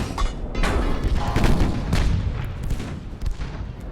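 An enemy battleship's big guns fire in the naval game Ultimate Admiral: Dreadnoughts, a run of heavy overlapping booms and rumbling salvos, loud and close, carrying on for several seconds without speech.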